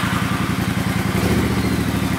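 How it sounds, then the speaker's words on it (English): A motorcycle engine runs throughout at a steady idle, with a close, even, low chugging pulse and no speech. "So if we start the bike now"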